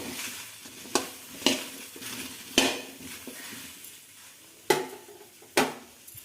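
Okra frying in a pan sizzles softly while a spoon stirs it, scraping and clinking against the metal several times at irregular intervals with no talk.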